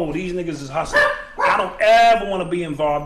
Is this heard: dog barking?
yes